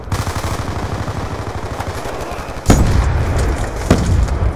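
Sustained rapid machine-gun fire in Call of Duty Black Ops 2, loud and close, hammering on continuously with heavier booming shots and impacts cutting in near the end.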